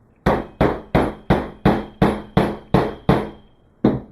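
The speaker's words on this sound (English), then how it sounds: "Grab your hammer." A hammer strikes a lightning rod into a cyclone feed, nine sharp, evenly spaced metallic blows about every 0.4 seconds, close and loud, then a short pause before one final hit.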